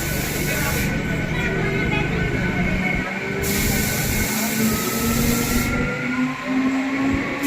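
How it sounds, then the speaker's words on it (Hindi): A MEMU electric multiple unit train pulls out of Hathras Junction after a short halt, its steady rolling rumble and rising motor whine filling the scene continuously, loud and close from on board, with no talking. "और 2 मिनट की देरी के हॉल्ट के बाद अपनी ट्रेन का डिपार्चर हो गया हाथरस जंक्शन से"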